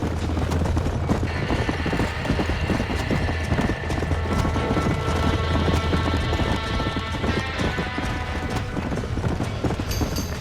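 Horses in the Red Dead Redemption video game, trapped in a burning barn, make a loud steady clatter of hooves with a possible whinny over a dense rumbling game soundscape.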